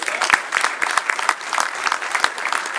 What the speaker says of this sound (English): Well, give them a clap.